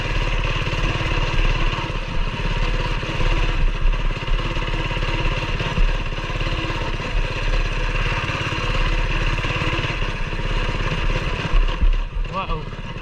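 Coleman BT200X mini bike engine revving steadily as it rides a dirt trail and takes a bermed corner, a continuous loud buzzing drone with slight surges, a voice briefly heard near the end.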